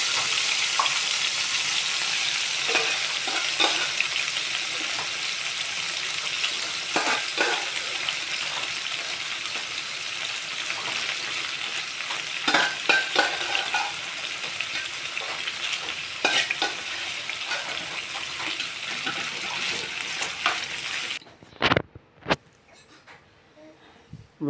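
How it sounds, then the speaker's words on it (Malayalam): Chicken shallow-fries in oil already used for frying ginger and garlic, a steady close sizzle with scattered sharp crackles and spatters lasting about twenty seconds before stopping and leaving near silence. "ഇതിലേക്ക് നമ്മൾ ചിക്കൻ ഒന്ന് ചെറുതായിട്ട് വേവിച്ച് ശാലോ ഫ്രൈ ചെയ്ത് എടുക്കണം."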